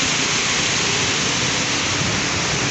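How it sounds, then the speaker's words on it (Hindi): Heavy rain pours down steadily onto a flooded street, a dense, continuous loud hiss with no break and no voices, close and enveloping. "बहुत तेज़ बारिश हो रही है"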